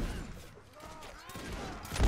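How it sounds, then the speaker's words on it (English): Scattered gunfire in a video game siege event: muffled, fairly faint volleys of shots against a dull, noisy background, with a louder burst at the very end. "Okay, shoot them as they move in."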